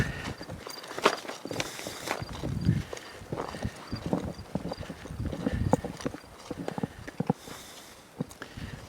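Horse hooves clip-clop steadily on hard ground, several horses walking at once during colt starting, with overlapping uneven beats, fairly close.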